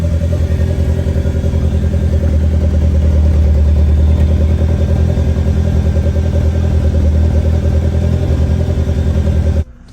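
A turbocharged Nissan Sentra engine idling loudly and steadily up close with a rough, rumbling tone while its cooling system is bled, cutting off abruptly at the very end.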